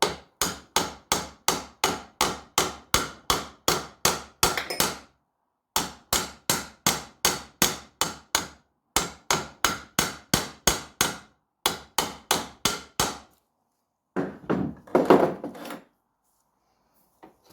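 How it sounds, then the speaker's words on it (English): A hammer taps rapidly on a metal clutch rivet of a 1964 Raleigh Runabout RM8 moped in several quick bursts of evenly spaced strikes, separated by short pauses, close and crisp. "I'm just tapping it with a hammer to rough that edge over a bit"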